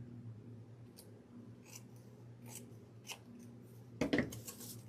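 Scissors snip a paper gingerbread house template in a few quiet, separate cuts over a low steady hum, with one louder, sharper cut near the end.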